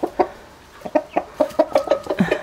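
Backyard chickens and a rooster cluck close by in quick, uneven bursts that come faster toward the end, with no talk over them.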